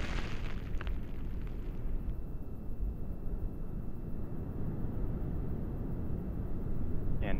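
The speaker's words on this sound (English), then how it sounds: "Burn profile on the solid rocket motors appears to be within family" Steady, deep roaring rumble from a ULA rocket in flight with solid rocket motors and an RS-68 engine burning, heard far off as a continuous broad low-frequency roar that barely changes throughout.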